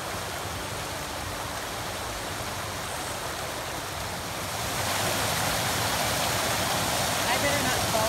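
Water rushes steadily over rocks along a stream on the Appalachian Trail, a continuous broadband wash heard close by that swells a little louder partway through, with no talk over it.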